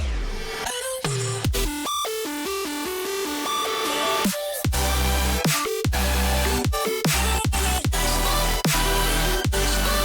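The final drop of an electronic dance track plays loud and dense in a DJ mix, with punchy repeated bass hits and a bright pulsing melodic layer, steady and without talking.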